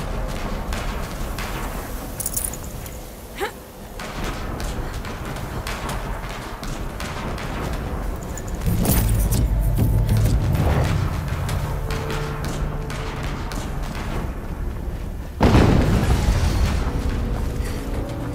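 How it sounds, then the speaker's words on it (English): Explosions sound in the video game Horizon Zero Dawn Remastered as a few deep booms and thuds over a dense, noisy battle soundscape, with louder blasts around the middle and near the end. "An explosion."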